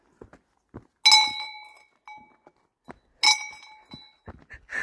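Bell on a forest trail struck twice, each a bright metallic clang with a ringing decay, separated by a few quiet seconds with scattered footsteps and small knocks nearby.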